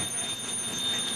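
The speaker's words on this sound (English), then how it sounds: "Now what you can hear is a bell going off in there." A firefighter's air tank low-air alarm bell rings steadily and continuously inside a building during a live fire training exercise, heard from a short distance with no talking.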